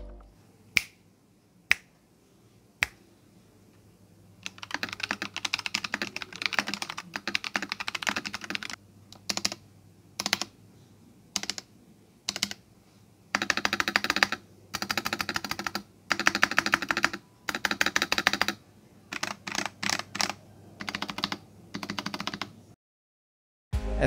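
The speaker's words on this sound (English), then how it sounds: "Here's a quick sound test of the keyboard." Bursts of clicky, clacky keystrokes on an Epomaker EP84 mechanical keyboard with rattly stabilizers, close and fairly loud, with a few isolated taps and short pauses between typing runs.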